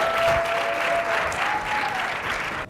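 A live podcast audience claps for a guest, dense continuous applause filling the room at an even level, with a faint steady tone underneath before it cuts off.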